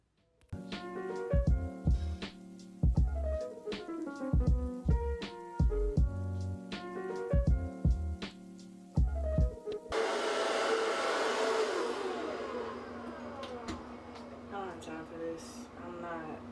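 A hair dryer blows on natural hair during a flipped-ends styling routine, starting halfway through as a steady broadband whoosh under music that plays throughout the clip.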